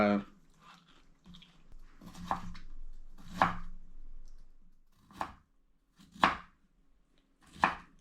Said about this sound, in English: and then I just cut it this small chunk like this right here